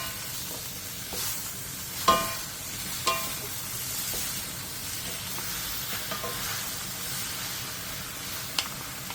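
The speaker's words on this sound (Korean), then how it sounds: "재료들을 넣고 중불에서 3분에서 5분 정도 볶아주세요" Vegetables and seasonings stir-fry over medium heat for a Korean yukgaejang base, a steady close sizzle with occasional sharp clacks of a utensil against the pan.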